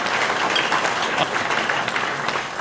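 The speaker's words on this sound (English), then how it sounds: "Give Christine another round of applause." Audience applause at a live-streamed event, a dense, steady crowd clapping that holds loud and even for the whole few seconds.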